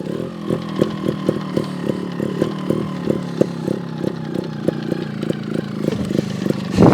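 A GasGas TXT 300 trials motorcycle revs close by in a rapid series of sharp, popping throttle bursts over an idling two-stroke engine, rising to a louder blip at the end.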